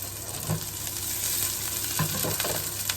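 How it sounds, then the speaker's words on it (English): Onions and shallots sizzle in hot rapeseed and chili oil, a steady close hiss with brief stirring scrapes around the middle and near the end, and no voices. "So I'm going in with my onions and shallots. I'm going to fry those a little bit."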